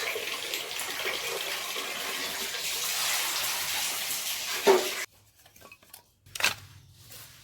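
Freshly cut tilapia is rinsed under running tap water in a sink, a steady splashing flow for about five seconds, followed by a few clinks of a dish or pan.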